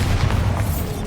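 Bombarda spell explosion from the Hogwarts Legacy video game, a deep booming blast with heavy low rumble sustained through the moment, loud and close with no talking.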